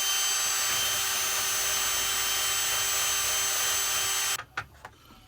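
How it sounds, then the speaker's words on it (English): An electric drill grinds paint off metal before a static-prevention connection on a belt sander, a loud steady whine running unbroken for about four seconds, then cutting off into a few short, fading bursts. "so we try the drill."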